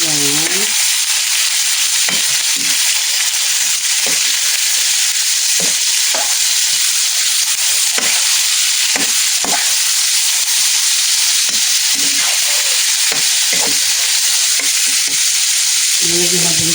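Garlic frying in a pan gives off a loud, steady sizzle with no break, punctuated by scattered soft knocks and scrapes of stirring.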